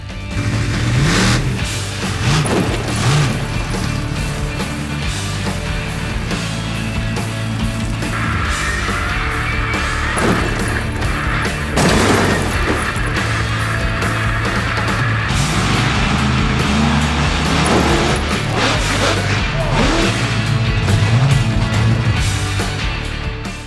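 Loud, continuous engine roar and revving from a home-built monster truck assembled from lorry and digger parts as it sets out to crush cars, filling the whole stretch with steady, surging mechanical noise.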